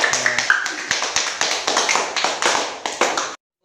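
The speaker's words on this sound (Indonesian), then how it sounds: "Tepuk tangan untuk kita semua" Classroom applause during a teacher-training practice lesson, a burst of many hands clapping in uneven rhythmic pulses for a few seconds, then cutting off abruptly into silence.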